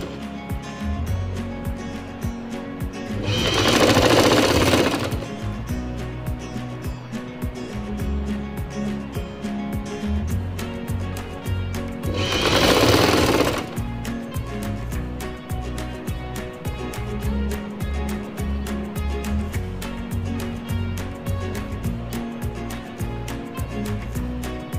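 A sewing machine stitches an umbrella frock, giving a rapid continuous mechanical chatter of needle strokes with two louder bursts of faster running, close and alone without talk.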